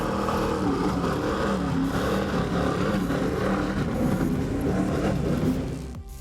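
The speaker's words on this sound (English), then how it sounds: "Let's listen to these 860s roar." Deep roar of 860 performance powerboat engines at a Key West poker run, a steady, loud, rumbling drone with layered low harmonics that holds throughout before easing off near the end.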